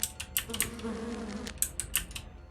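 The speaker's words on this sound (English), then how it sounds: "attacked by a swarm of bees" A swarm of bees buzzing in the Lands of Lore computer game, a faint droning hum broken by short repeated buzzy bursts, with no voices.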